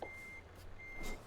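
A lorry in a truck driving game sounds its reversing alarm in a tight yard: a steady high electronic tone beeping over a low engine hum, fairly faint, with no talk.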